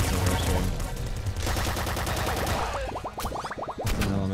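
Rapid gunfire from the video game Nuclear Throne, dense rattling bursts of shots in quick succession with a chirping electronic volley toward the end, loud and continuous, with no voice.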